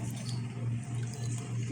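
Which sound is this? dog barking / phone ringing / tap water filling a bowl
tap water filling a bowl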